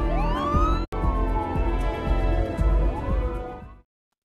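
An ambulance siren wails continuously with rising and falling sweeps, loud and close, cutting out abruptly near the end, in a drama film scene of a patient being rushed to hospital.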